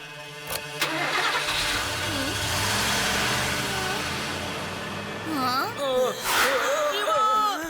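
A van engine starts in an animated cartoon, cranking and catching, then running steadily at a mid-pitched idle before revving, with cartoon voices and effects chattering over it.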